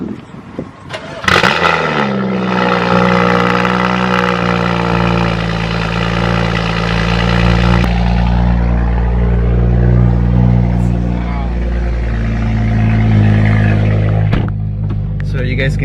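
A straight-piped BMW F32 435i cold-starts with a sharp crank and burst, then settles into a loud, droning high idle that holds steady for many seconds, with a brief blip near the end.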